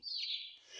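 A single short, high bird chirp in the video game Garten of Banban sweeps down slightly and fades. It is faint and isolated, with no voices.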